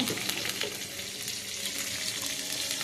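Mustard seeds and garlic fry in hot oil for a gravy of ivy gourd, a close, steady crackling sizzle with scattered pops and stirring scrapes, no voices.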